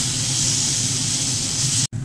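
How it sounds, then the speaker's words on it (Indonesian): Gulai spice paste sizzles in a hot pan, a steady close frying hiss that holds without a break and cuts out briefly near the end. "Numisin bumbu gulai."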